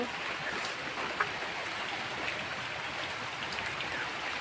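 Steady rain falls on surfaces around a home where cows are kept, an even, continuous hiss of drops without pause or voices.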